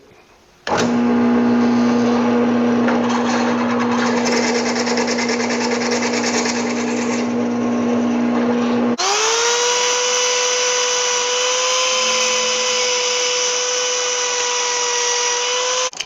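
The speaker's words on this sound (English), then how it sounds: "It's a brand new bit. The claim is for hardened steel. This is hardened steel." A brand new drill bit bores into hardened steel, a loud steady mechanical whine that holds one pitch, then shifts upward to a higher, brighter tone and keeps running strongly to the end, with no talk.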